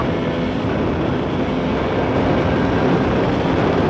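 A YCF SP3 motorcycle cruising in sixth gear at about 80 km/h gives a steady, loud engine and wind roar that holds evenly throughout, with no voices.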